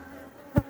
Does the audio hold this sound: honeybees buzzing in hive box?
yes